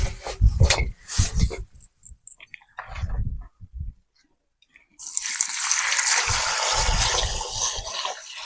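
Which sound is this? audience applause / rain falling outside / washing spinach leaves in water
washing spinach leaves in water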